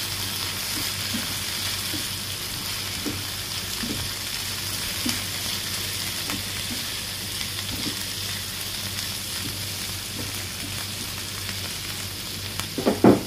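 Bitter gourd and potato fry sizzling in a pan just after the lid comes off, stirred with scattered soft scrapes and taps under a constant frying hiss, ending in a few louder utensil knocks.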